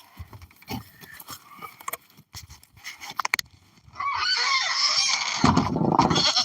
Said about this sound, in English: I'm gonna get some feed, so I'm listening to this goat scream the whole time.